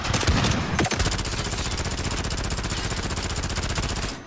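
Gunfire from the video game Call of Duty Modern Warfare rattles in a sustained, rapid automatic burst lasting several seconds. The shots are loud and close, and it opens with a couple of heavier impacts before cutting off abruptly.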